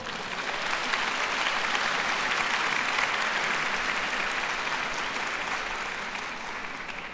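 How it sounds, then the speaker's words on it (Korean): An audience claps steadily through a youth concert at the Seoul Arts Center, dense and even applause from a full hall that eases off slightly at the end, with no talking. "박수 한번 쳐주세요."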